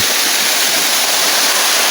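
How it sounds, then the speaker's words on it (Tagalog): Roadside waterfall below the falls under shady trees, pouring as a steady, loud, broadband rush of water throughout, with no voices or traffic standing out. "dahil nandito tayo sa sa baba po ng talon"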